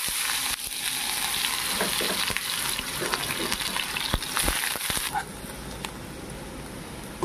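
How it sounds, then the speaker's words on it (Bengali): Onions frying in hot oil for a tilapia fish curry, a steady broadband sizzle with crackles and stirring scrapes that quiets slightly toward the end, with faint talk underneath. "আর এদিকে আমার তেল গরম হচ্ছে, এখন দিয়ে দেবো। প্রথমে আমি পেঁয়াজগুলি দিয়ে দেবো।"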